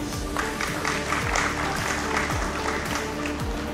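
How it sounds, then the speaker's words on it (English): Audience at a keynote event applauds the organizers, steady clapping throughout over a humming background. "and special applause for all of them, please."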